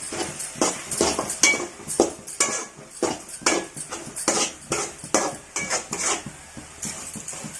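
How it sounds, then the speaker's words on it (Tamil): A spoon scrapes and clanks rhythmically against a pan as a thick coconut burfi mixture with cardamom is stirred. The strokes come in a steady run of loud, close metallic scrapes. "நல்லா கிளறி விட்டுட்டே இருக்கணும்"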